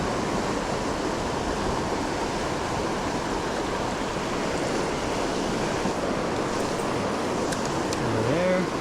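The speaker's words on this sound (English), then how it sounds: "Waterfalls." A river waterfall rushes in a constant, loud wash of water close by, steady the whole time, with a brief voice near the end.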